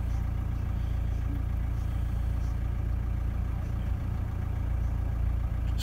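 A cold diesel engine idling, a steady low rumble that stays even and constant, close by with no voices.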